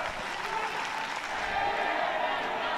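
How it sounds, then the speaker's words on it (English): A large crowd at a Hong Kong versus Korea rugby match keeps up a steady wash of applause and cheering, dense and fairly distant, with indistinct voices mixed through it. "it's good to hear the crowd getting behind them"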